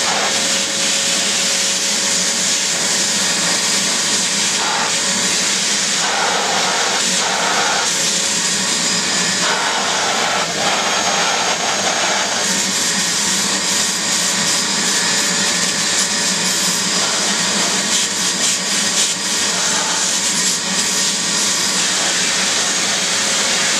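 An Armor All utility wet vac fitted with a narrow nozzle roars loudly and steadily, a broad hissing whoosh with brief shifts in tone as it sucks up debris.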